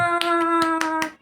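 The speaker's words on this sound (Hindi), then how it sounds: "तालियां।" Hand clapping, about five sharp claps spaced roughly evenly over a sustained, steady musical tone that holds underneath and fades at the end.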